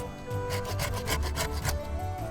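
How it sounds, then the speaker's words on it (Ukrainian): A cheap ten-dollar hand saw cuts through a thin wooden log with quick, even back-and-forth rasping strokes, close and steady, with no talking. "За допомогою такої пилки буде нескладно випиляти не сильно товсту колоду"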